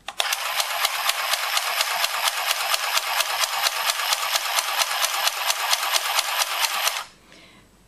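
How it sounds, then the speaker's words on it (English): A handheld sewing machine stitches fabric with a fast, even train of sharp clicking punches, close and loud for about seven seconds before stopping abruptly. "Going to press the power button and start sewing."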